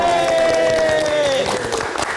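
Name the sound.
studio audience applause for a band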